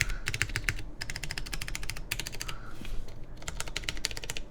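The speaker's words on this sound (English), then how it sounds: "I actually prefer the sound of these keys more than any of the modifiers" Mechanical keyboard keys, on a Xingzhi x Qin Seal build, clack in fast bursts of typing, close and crisp, with short pauses between runs.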